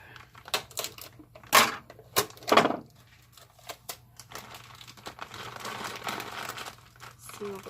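Plastic bag of sawdust mushroom spawn and a strip of tape being handled to seal it, with sharp crinkling bursts, a tape rip and rustling, close and fairly loud.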